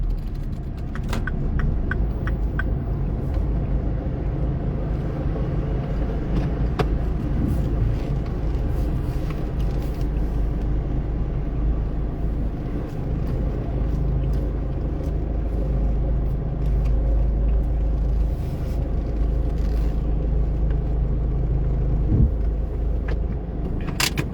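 Inside a moving car, a continuous low road rumble and engine drone hold steady throughout with no one speaking.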